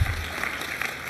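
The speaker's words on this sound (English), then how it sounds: "Clap if they're familiar." Audience at a 2024 commencement keynote clapping in brief, scattered applause for names of faded brands, a short soft patter of hands in a large hall.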